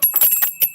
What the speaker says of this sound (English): I didn't love the sound of bells.